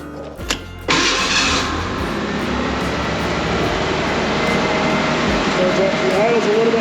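A Ford Bronco engine starts and then settles into a steady, slightly high idle, a loud and close continuous rumble with some speech over it.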